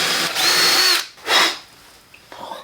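A power drill bores bolt holes through wood for a homemade manual trainer in a garage, giving two loud, whining bursts of drilling separated by a short pause, then a quieter rattle.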